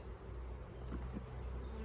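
A continuous buzz of honey bees hums steadily, like many bees droning close by at a hive, with a low background rumble and no voices.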